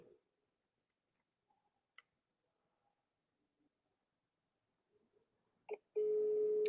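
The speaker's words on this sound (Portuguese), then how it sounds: "Estou discando aqui, só um minutinho." A telephone is dialed: faint scattered clicks and brief tones give way to a loud, steady ringback tone near the end.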